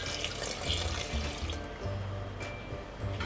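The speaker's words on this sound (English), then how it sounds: "Now we add the grapefruit juice." Grapefruit juice pours into a bowl of curd slurry, making a close, continuous liquid splashing and trickling sound for a few seconds with no voices.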